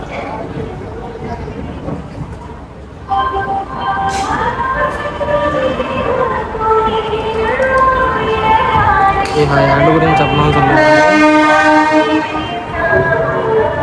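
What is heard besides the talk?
train departing Vijayawada for Guntur, with horn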